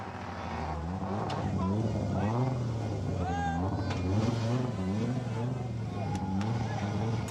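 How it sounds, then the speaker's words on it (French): A Toyota Celica rally car spinning in a super special stage, its engine misfiring as it revs and sputters unevenly up and down, fairly close, with a commentator talking over much of it. "Tête à queue provoquée par des ratés moteurs, bris de marche arrière, la totale."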